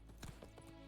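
Roach the horse's hooves in a video game clip-clop a few quick, soft beats, faint and brief over a low steady background hum.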